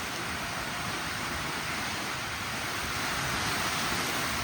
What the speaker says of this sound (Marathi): वारा लय बेकार वारा आहे